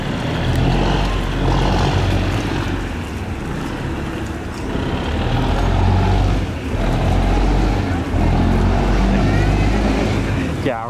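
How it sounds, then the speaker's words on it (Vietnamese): A river barge passing nearby, its engine a loud, continuous low rumble with broadband wash and churn throughout, steady with slight swells as it moves by. "Là chiếc xà lan Nam K4 các bạn."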